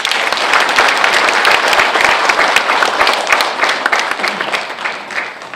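Sustained applause from an audience at a general assembly meeting of a Korean safety prevention association, dense and steady clapping across the whole span with no talk over it.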